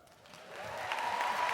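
A live audience at a taped comedy podcast show in New York breaks into applause that swells from quiet to a steady, dense clapping roar.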